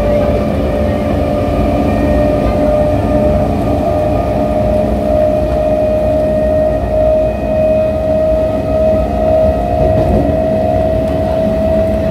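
Steady rumble of a train at Baruipur railway station, with a sustained tonal whine over broadband low noise running continuously and loudly throughout, no voices.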